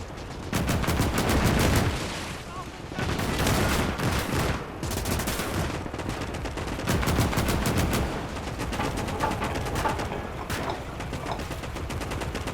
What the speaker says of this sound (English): It's the battle of the autocannons.